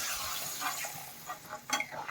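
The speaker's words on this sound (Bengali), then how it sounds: "এখন এর মধ্যে আমি গরম জল অ্যাড করে" Hot water goes into a frying vegetable mixture in a pan for a cauliflower curry, bringing a soft sizzle with scraping stirs and a brief splashy burst near the end, fairly quiet and close, without voices.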